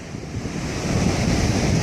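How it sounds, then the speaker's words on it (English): Strong wind buffets the microphone on Foxton Beach with a steady, loud, rumbling roar, and surf wash sits underneath it. "I know it's a bit windy"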